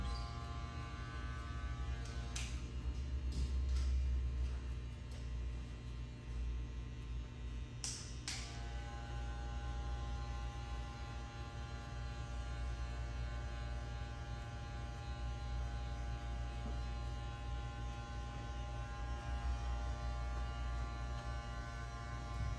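Electric hair clippers fitted with a 1 guard buzz steadily over a skin fade, a low constant hum with a couple of brief louder cutting passes near the start, faint and close.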